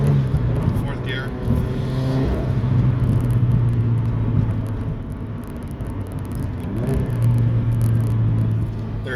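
Turbocharged 2013 Scion FR-S with an IAG stage 2 turbo pulling in fourth gear, a steady loud droning rumble that swells and eases, heard from inside the car under a voice.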